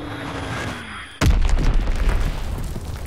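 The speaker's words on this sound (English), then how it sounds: "Enemy bomb incoming." A bomb explodes in Call of Duty WWII: a sudden loud boom cuts in after quieter ambience, followed by a sustained crackling, rumbling aftermath.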